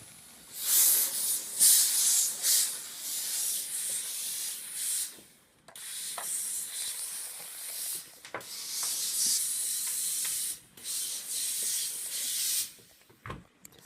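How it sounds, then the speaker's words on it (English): A steam iron hisses over a sewn pillow in long, bright bursts of steam with short breaks between them, ending with a soft thump. "Let's bring it over to the iron and give it a steaming."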